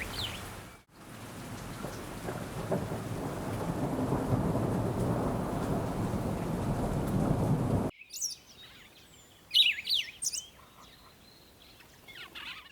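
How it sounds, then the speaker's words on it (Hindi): Steady rain pours heavily for several seconds with a low rumble beneath, then cuts to quieter outdoor sound with scattered birdsong. "बारिश लगातार बरस रही थी।"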